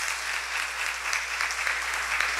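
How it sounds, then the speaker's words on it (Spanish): A congregation at a baptism during Mass breaks into sustained applause, a dense, even wash of clapping from many hands throughout, fairly close and without pauses. "le damos un fuerte aplauso"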